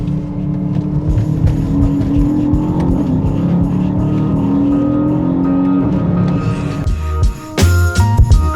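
A 2026 Aston Martin DBX S SUV with a twin-turbo V8 drives at speed, a loud, steady engine drone with shifting pitch and road noise, ending in a brief burst of mechanical clatter.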